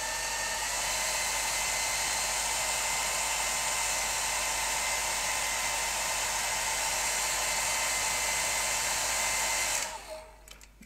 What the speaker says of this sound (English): So it's a quick hairdryer, bit of noise.